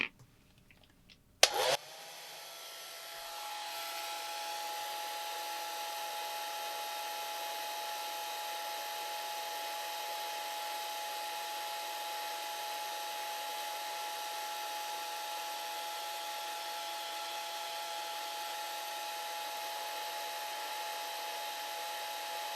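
A hair dryer drying a watercolor painting of a bobcat kitten clicks on after a few small handling noises and then runs as a steady, loud whirring blow with a high whine that continues unbroken.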